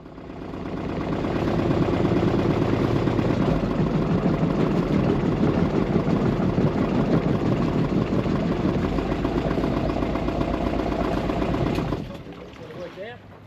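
A boat engine drones loudly and steadily for about twelve seconds, then cuts off abruptly, leaving quiet background sounds.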